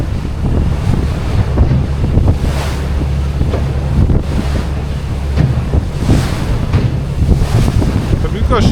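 Loud wind buffets the microphone over rolling ocean waves in the Catalina Channel, with a boat's low rumble underneath and faint talk mixed in.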